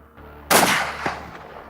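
A single loud, close hunting-rifle shot cracks out and decays quickly, fired at a crocodile in shallow water on a safari hunt.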